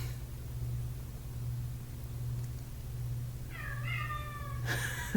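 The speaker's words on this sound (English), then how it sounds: "Do you hear my cat?" A house cat gives a couple of drawn-out meows near the end, standing out over a constant low electrical hum and faint room noise.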